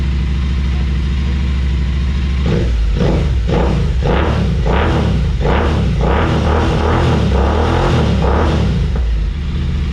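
A Royal Enfield motorcycle fitted with a Red Rooster slip-on exhaust fires up after a couple of seconds and settles into a loud, rich, pulsing idle with a few blips, close to the microphone. People talk over it.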